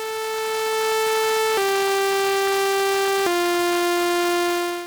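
A big detuned unison synthesizer bass for hard techno holds three loud, buzzy, sustained notes, each stepping lower in pitch, with no gaps and no voice.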